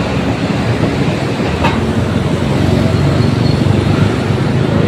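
An MRT train rolls near the North Avenue common station along EDSA, a steady loud rumble of wheels on track blending with roadway traffic noise, continuous throughout with no talk.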